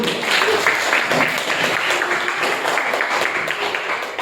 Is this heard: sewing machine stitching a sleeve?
no